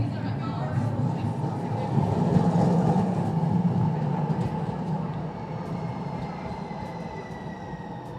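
A morning commuter train in snowy weather, its broad steady rumble and rolling rail noise filling the scene continuously at moderate loudness, swelling slightly midway; faint voices may mingle in the background.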